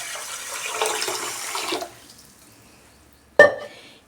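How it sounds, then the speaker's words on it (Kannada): Water pours steadily into a cooking pot for a couple of seconds, then stops, followed by a sharp metallic clank and a brief splash. "ಈ ನಾಲ್ಕು ಗ್ಲಾಸ್ ನೀರು ಹಾಕ್ತಾಯಿದೆ"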